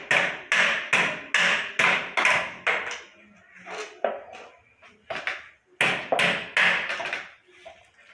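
A hammer strikes a dirty, dried-up wheel part to knock it loose: a quick regular series of sharp metallic blows, then scattered lighter taps, then another rapid burst, close by.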